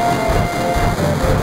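Train in the video game Final Fantasy VII, a continuous loud rumbling rail roar with a faint high whine running through it, steady and close, no speech.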